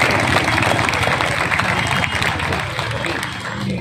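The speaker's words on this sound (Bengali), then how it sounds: "একবার জোরে হাততালি সবাই।" Audience applause fills a felicitation ceremony hall at a South Dum Dum municipality sports event honouring Santosh Trophy 2025 players, steady dense clapping throughout with some crowd murmur mixed in.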